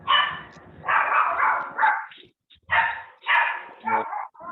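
A dog barks repeatedly nearby in several loud bursts during a church service, with short pauses between the barks.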